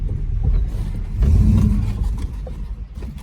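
A 1967 Dodge Coronet 440 engine revs up on a short run, a loud, close, deep rumble that swells into a strong surge of acceleration and then eases back to a lumpy idle, with no talking.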